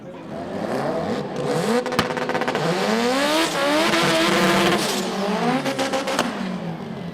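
Front-wheel-drive drag race cars accelerate hard down the strip at a street car drag series round, engines revving and rising through gears in loud overlapping sweeps. Sharp shift breaks punctuate the sustained roar.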